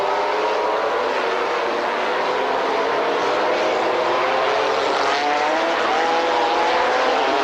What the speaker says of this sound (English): Raffanel just gives a squirt of this 650 horsepower BMW power in the McLaren